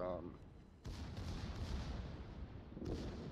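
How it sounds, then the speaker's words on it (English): Warship naval guns and secondary batteries in a battleship game boom and rumble in overlapping volleys, with a fresh salvo near the end. The low rolling fire sits under a commentator's voice. "that gives Simenabs now a nice opportunity to put some shells and secondary fire on him"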